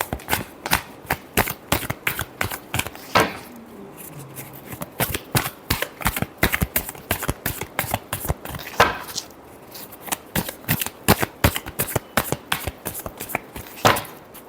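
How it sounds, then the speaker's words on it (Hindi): Tarot cards shuffled by hand in a long run of quick, crisp riffling and slapping bursts, loud and close with brief pauses between flurries, no talking. "last shuffle"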